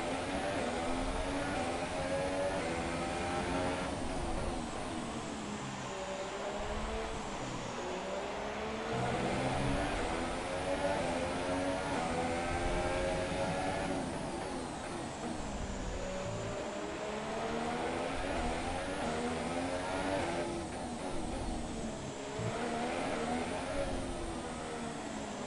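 Formula One race car in F1 2017 screaming through gear changes at Spa, a high engine whine that keeps climbing, dropping and rising again without a break.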